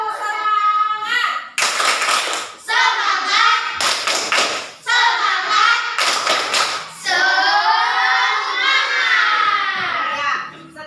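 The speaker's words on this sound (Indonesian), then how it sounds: "Ayo semua tepuk semangat." A group of schoolchildren in a classroom chant loudly in unison, punctuated by bursts of rhythmic clapping in sharp, regular sets between the chanted lines.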